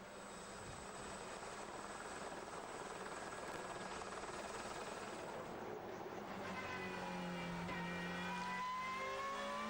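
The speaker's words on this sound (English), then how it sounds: "They've managed to get the car running." An Alfa Romeo Super Touring race car's engine runs in the Magny-Cours pit lane after a misfire, a steady loud roar under broad noise that rises into climbing revving tones toward the end.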